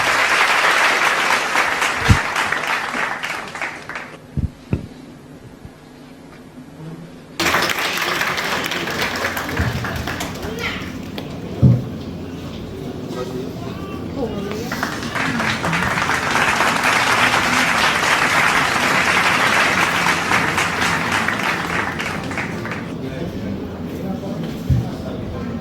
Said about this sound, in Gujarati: તાળીઓથી આપણે એમને વધાવીશું.